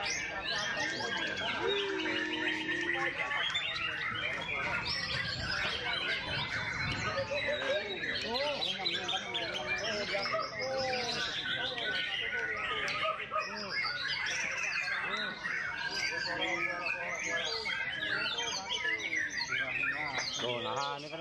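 White-rumped shama songbirds at a crowded bird-singing contest meet, several birds pouring out dense overlapping whistles, trills and chirps nonstop, with people talking throughout.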